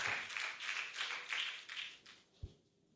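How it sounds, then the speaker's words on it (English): Conference audience at a pharmacists' annual general meeting gives a round of applause, a faint, fairly sparse patter of clapping that fades out toward the end, with no talk. "Another round of applause for him."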